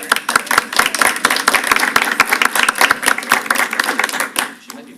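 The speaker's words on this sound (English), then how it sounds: "we have to give a round of applause for her." A small crowd at a board of education meeting gives a brief round of applause, a steady patter of many hands clapping close by for about five seconds before tapering off, with voices mixed underneath.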